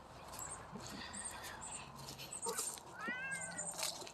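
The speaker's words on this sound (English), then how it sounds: "Just meowing?" A cat meows clearly nearby, a rising-and-falling cry near the end, over a faint background of chirping birds and some soft talk.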